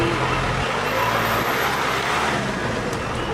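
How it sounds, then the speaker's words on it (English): Steady roar of road traffic during a rally in India, with engines and tyre noise from many vehicles, continuous and fairly loud, no voices. "There's probably hundreds of cars behind me."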